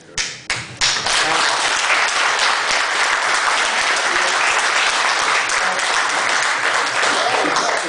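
An audience at a political rally in Limerick breaks into sustained applause, a few sharp claps first and then a dense, loud wash of clapping that holds steady throughout.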